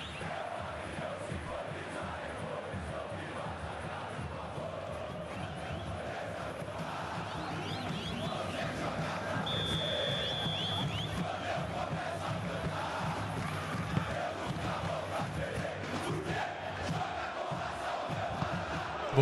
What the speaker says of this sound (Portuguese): a torcida gostou da chegada do time